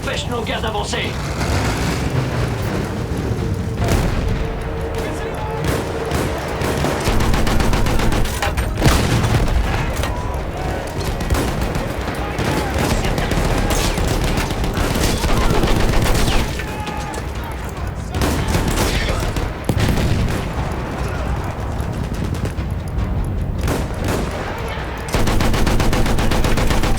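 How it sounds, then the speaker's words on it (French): Heavy bursts of machine-gun fire and explosions in a Battlefield 1 battle, dense and continuous, with shouted French voices mixed in throughout. "Ces mitrailleuses empêchent nos gars d'avancer!"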